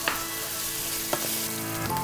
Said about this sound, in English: this is really important to cook the onion down until the moisture evaporates